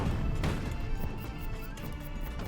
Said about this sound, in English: He died to a fuel explosion.